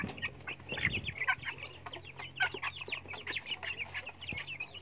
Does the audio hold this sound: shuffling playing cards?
no